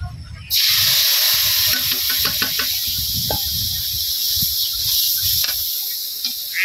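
Ground cumin and ginger paste fry in a pan with a steady, bright hiss and sizzle that holds loud and continuous throughout, joined by faint stirring clinks underneath.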